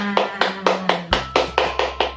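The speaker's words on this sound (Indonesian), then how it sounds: "Oke, tepuk tangan untuk kita semuanya." Schoolchildren in a class clap in a steady, even rhythm of about eight sharp claps, close by, with a low tone sounding beneath partway through.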